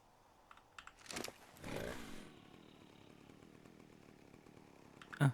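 Chainsaw in the video game Ark Survival Ascended, heard as a short burst of revving cutting noise around the second second, then a softer sustained drone under faint background sound, ending with a sharp loud hit.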